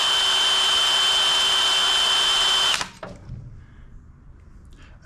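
Power drill with a fresh bit boring steadily into a hardened bolt on a Craftsman DLT3000 riding mower, a loud continuous high whine that cuts off abruptly near three seconds, leaving faint shop noise.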